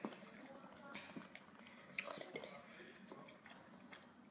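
Someone chews gum slime with soft, wet, squishy bites and smacks repeating irregularly at close range, and a voice can be heard talking quietly alongside the chewing.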